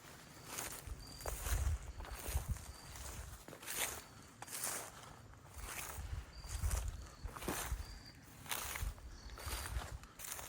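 Slow footsteps crunch through a hayed field in North Carolina during a deer hunt, each step landing on tractor treads in a steady, deliberate rhythm, close and fairly soft with rustling vegetation.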